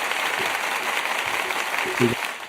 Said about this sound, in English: Put the applause on this, man.